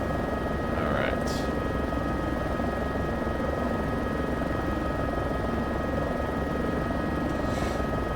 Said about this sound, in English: head back in my helicopter so we can actually hear a little bit here.